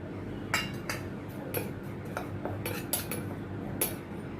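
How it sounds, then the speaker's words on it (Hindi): Spice powders (red chili, amchur, black salt) stirred together with a spoon in a small bowl, giving light, irregular metallic clinks and taps over a quiet background, close and soft, with no talking. "ये सभी अभी मैं इसमें कटोरी में डाल के मिक्स करती हूँ।"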